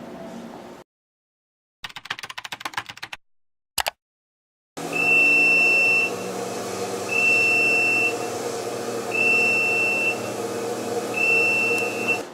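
After some brief clicks and handling noise, a steady electronic hum carries four evenly spaced high-pitched beeps, each about a second long, from an air cleaner's filter-replacement buzzer alarm.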